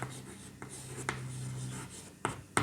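Marker or chalk strokes scrape across a board in a few short bursts during a lesson on concave mirrors, quiet and close with long pauses between strokes.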